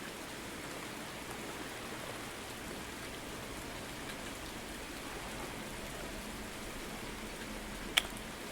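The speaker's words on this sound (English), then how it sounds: "Seems like it's always raining." Steady rain in the fishing game Ultimate Fishing Simulator, a soft, even hiss of falling drops that holds at a low level throughout, broken near the end by one sharp click.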